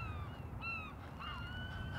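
Birds, likely gulls, call twice with harsh, drawn-out cries at moderate distance over a steady outdoor background hum.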